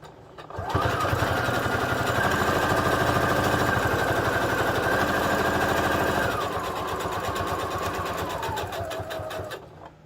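A sewing machine runs steadily, stitching fabric closed on a small animal cage cover, with a loud continuous motor whir and needle chatter that slows and drops in pitch near the end, with no talk.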